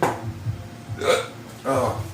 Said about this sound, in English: excuse me, I got hiccups out of nowhere.